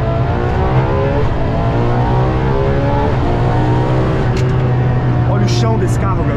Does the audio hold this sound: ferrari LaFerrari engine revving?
yes